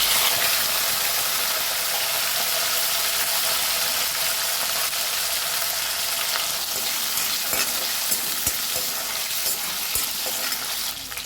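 Shallots, green chillies and curry leaves fry in hot oil where mustard seeds have already popped, giving a loud, continuous, close sizzle with occasional faint stirring scrapes.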